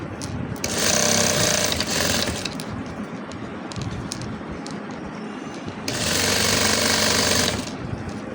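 Sewing machine stitching lace onto a dupatta, two loud bursts of rapid whirring stitches separated by a quieter stretch of handling and small clicks, close up.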